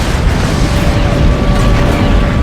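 A flak gun explodes in the flight-combat video game Heroes over Europe: a loud, sustained rumbling boom with dense roaring noise that fills the whole moment without a break.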